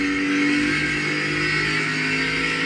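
A NASCAR Cup Series race car accelerates at Phoenix, its loud, sustained engine holding a steady high drone with a slowly rising pitch throughout.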